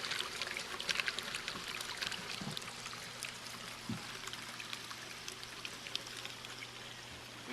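Water airlifted by an air pump out of a fish tank's settlement corner drains away to waste with a steady splashing, trickling rush, continuous and close, with a couple of low gurgles partway through.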